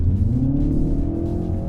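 A MINI Cooper S in go-kart mode runs with a steady, loud engine drone, revving in a brief continuous burst heard close and alone.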